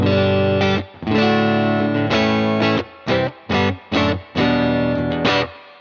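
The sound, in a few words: electric guitar through UAfx Woodrow amp pedal, totally dry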